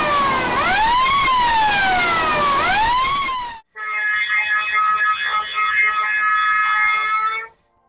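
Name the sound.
drilling rig fire alarm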